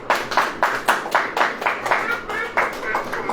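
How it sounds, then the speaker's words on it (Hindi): An audience at a sermon gathering claps hands together in a steady rhythmic beat, about three sharp claps per second, moderately close, with faint voices underneath. "ताली हो जाओ यार।"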